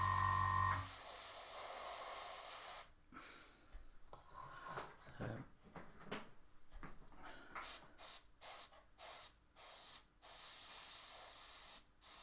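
An airbrush sprays low-pressure lacquer paint onto a 1/35 Dragon M4A3 Sherman model, a steady close hiss broken into bursts of varying length with brief quiet gaps.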